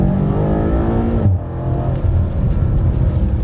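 A 2021 BMW M8 Competition Gran Coupe pulling through a corner, its engine droning loud and close from inside the cabin, with a brief dip as a shift comes before the revs climb again.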